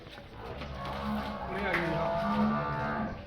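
A buffalo heifer lowing in drawn-out, low moans, fairly close, with background voices and farmyard noise mixed in.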